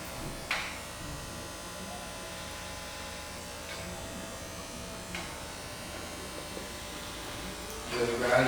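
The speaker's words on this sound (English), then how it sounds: "clipper over comb, combing the comb straight up. I'm cutting straight into it with clipper open" Electric hair clippers buzz steadily at close range while cutting hair over a comb during a combover with shadow fade, with a few brief knocks and a louder rustle near the end.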